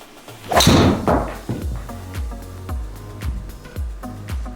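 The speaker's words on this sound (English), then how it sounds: "Okay, so shot 1 with the white tee. That's the smallest tee." A golf driver strikes a ball teed up on the smallest white tee: one sharp, loud impact early on, followed by softer rhythmic thuds over a steady background tone.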